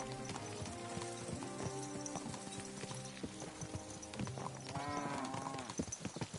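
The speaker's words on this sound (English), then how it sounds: "Stop that horse and surrender!" Galloping horse hooves in the medieval video game Kingdom Come: Deliverance 2, a steady rapid thudding beneath layered musical tones and game ambience, loud and continuous throughout.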